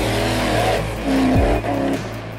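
A Land Rover Defender 90 with a V8 4.2-litre Rover engine revs hard through mud, the loud close engine note rising and falling in several surges over a couple of seconds.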